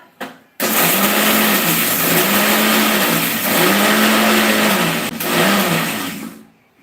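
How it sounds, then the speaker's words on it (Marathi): A mixer grinder coarsely grinds roasted peanuts with no water added. It starts abruptly into a loud, steady whirring roar that pulses slightly in pitch for about six seconds, then winds down. "जे काही भाजलेले शेंगदाणे आहे ते मिक्सरमध्ये ओबड धोबड फक्त बारीक करून घेणार आहोत"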